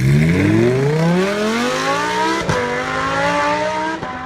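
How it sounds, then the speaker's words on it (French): A Ferrari engine roars loudly up through its revs, the harmonic pitch sweeping steadily upward and holding a strong, close, continuous howl for about four seconds with no voices. "vous voulez entendre le rugissement du moteur"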